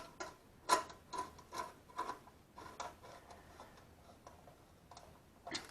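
Ratchet with a 10mm socket and extension clicking as it tightens a bolt on a Honda Rebel 250 motorcycle, a quick run of sharp, moderately close ticks that slows and fades toward the end.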